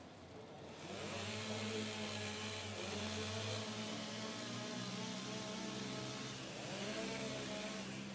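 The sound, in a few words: STIHL chainsaws warming up at timbersports competition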